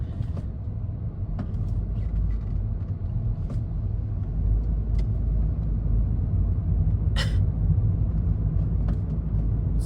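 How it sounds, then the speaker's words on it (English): A hybrid electric car driving at sunset through Riyadh, heard from inside as a steady low road rumble and engine hum that stays even throughout, with a few faint clicks. "It's a hybrid electric vehicle, so it uses fuel."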